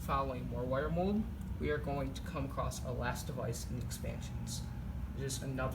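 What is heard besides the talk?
No everyday noises stand out.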